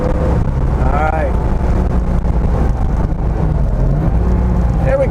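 An early hot-rod Porsche 911 engine revs up hard through the gears with heel-toe downshifts, a loud close drone with rising pitch sweeps, while someone talks over it.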